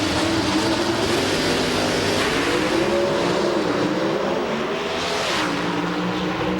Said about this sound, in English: Good drag race. Stevens, the Englishtown winner, pulls away.